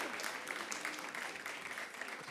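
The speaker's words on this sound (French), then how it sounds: "Applaudissez-la très fort." A studio audience gives a short, quiet round of applause for a guest, a soft continuous patter of many hands clapping heard faintly at a distance.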